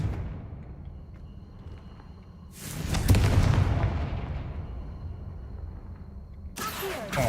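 A fiery blast spell in the video game Hogwarts Legacy bursts out loudly in a broad boom that fades over a few seconds, followed by a second sharp burst at the end, with no talking.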